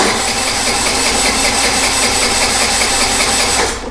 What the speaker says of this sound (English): A lot of times it'll crank over and start for only a minute or a second